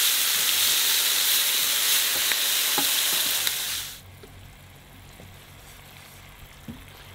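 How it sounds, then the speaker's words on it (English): Tamarind and chilli sauce with sesame oil bubbles hard in a pan with a loud, bright hiss for several seconds, then drops abruptly to a quiet low simmer with a few small pops. "So we reduce that down now until it's a nice sticky sauce"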